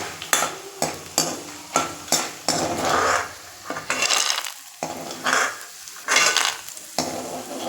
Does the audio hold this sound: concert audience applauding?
no